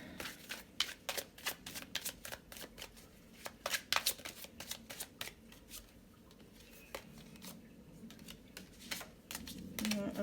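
A tarot card deck being shuffled by hand, with rapid, crisp riffling and snapping of cards in uneven bursts, close and fairly quiet, without talk.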